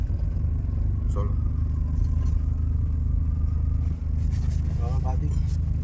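A car pulls away in second gear during a driving lesson, its engine a steady low rumble and drone with a few faint clatters, close and constant from start to finish.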